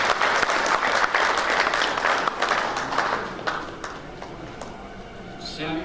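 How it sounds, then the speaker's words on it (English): Sustained applause from an audience at a university graduation ceremony honoring gold medalists, fairly loud and steady before gradually thinning out toward the end. "All the audience, please clap for these gold medalists"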